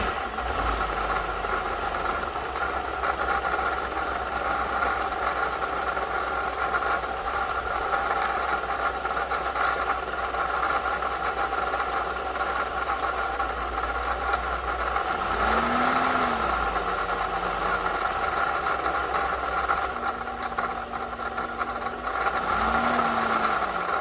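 Chevrolet Silverado pickup truck engine running steadily at a quiet idle, a low, constant mechanical drone with a couple of brief rises in pitch like light revving, no voices.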